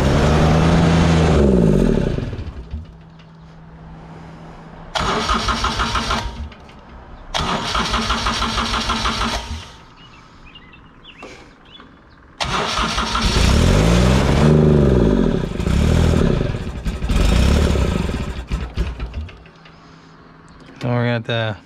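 A Honda engine on a Grasshopper mower with a suspected fuel blockage cranks, catches and runs in loud uneven bursts, cutting out and restarting several times, with brief quieter gaps between.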